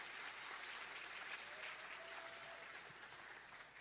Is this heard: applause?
yes